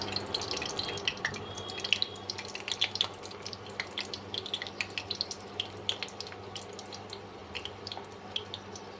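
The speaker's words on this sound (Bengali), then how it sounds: "এইভাবে 2 পিঠ সোনালি করে ভেজে নেব।" Battered pui leaf fritters fry in oil until golden on both sides, giving a steady, close crackle of tiny pops and spits that goes on without a break, with no voices.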